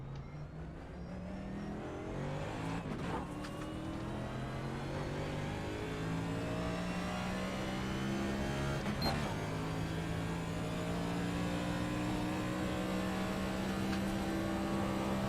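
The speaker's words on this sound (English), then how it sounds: "Car sounds a little loud in my ear." A NASCAR race car engine at Talladega in a sim racing game, droning loud and steady with rising pitch as it accelerates through gears, with two brief shifts, and no talk.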